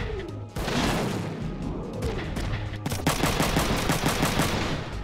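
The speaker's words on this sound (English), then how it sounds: "I'm gonna shoot with Kazuki first. To bait out the machine gun." Machine gun bursts and gunshots in the Front Mission 3 video game, rapid loud rattling fire in repeated volleys with heavy impacts, dense and continuous after a brief quieter opening.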